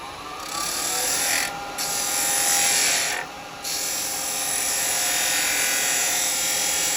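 Wood lathe turning end grain with a 3/8 spindle gouge, a steady high scraping hiss of the cut over a faint motor hum, broken by two brief pauses as the tool lifts off the wood, close and without speech.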